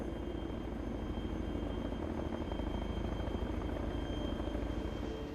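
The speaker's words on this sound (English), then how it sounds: "Here's another example of a pedal offset landing as done in a Chinook." Chinook twin-rotor helicopter in the Arma 3 video game coming in to land with a pedal-offset approach, its dense rotor thump and engine roar steady and loud throughout with no talk.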